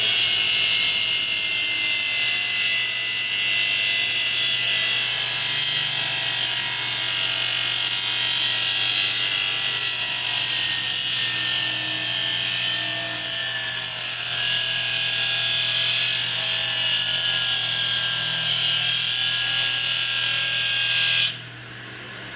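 Norton RazorStar 10-inch expander wheel sands metal with a steady, loud, high-pitched abrasive whine and grinding hiss, running continuously and evenly before cutting off abruptly near the end; no talking.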